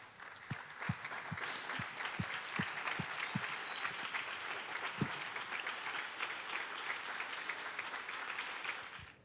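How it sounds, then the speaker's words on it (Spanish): A church congregation stands and applauds to welcome their pastor, a dense steady wash of many hands clapping throughout, with a few sharper individual claps standing out near the front. "vamos a darle un fuerte aplauso de bienvenida"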